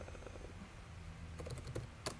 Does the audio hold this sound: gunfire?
no